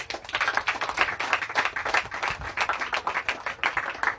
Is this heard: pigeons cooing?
no